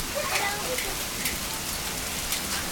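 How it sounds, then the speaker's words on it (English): A small hail storm in Oklahoma, with pea- to nickel-sized hailstones pattering and ticking on surfaces in a dense, irregular rattle, accompanied by a few sharper impacts and a faint background wash of wind. "It's like every time the wind picks up, the hailstones get bigger."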